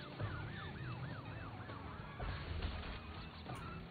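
Police car siren in the game Crash Bandicoot N.Sane Trilogy, a wailing up-and-down sweep repeating rhythmically over busy game noise and low rumble, fairly loud and alone without talk.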